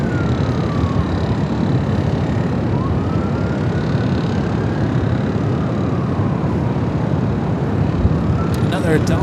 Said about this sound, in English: It's a plane crossing over 24 left.